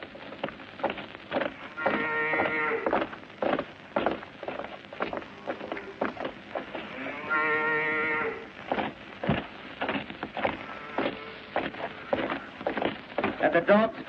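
Cows low a few times at a distance, long drawn-out moos rising over a steady patter of rain and scattered voices.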